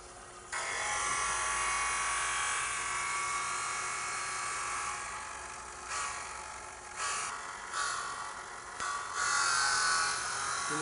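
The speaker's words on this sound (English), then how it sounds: "The machine is designed to take a little off at a time so that it doesn't twist the lens" An optical lens edging machine grinds an eyeglass lens held in its chuck, taking a little off at a time; a steady, loud whirring grind runs throughout, with slight surges and dips in the last few seconds.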